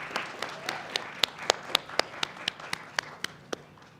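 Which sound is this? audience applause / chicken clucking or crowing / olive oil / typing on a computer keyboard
audience applause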